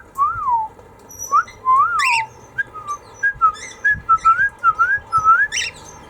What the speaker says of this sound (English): One last whistle.